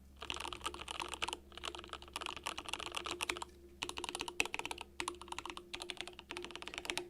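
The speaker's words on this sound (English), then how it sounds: "so we'll just do one more quick type on the Grid650" Someone types on a Grid650 mechanical keyboard with Gateron Black Ink switches, producing close, clacky, fairly high-pitched keystrokes in rapid bursts separated by short pauses.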